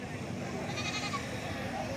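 Sheep bleat at a busy livestock market in Dera Ghazi Khan. Faint calls rise over a steady din of crowd murmur and nearby voices.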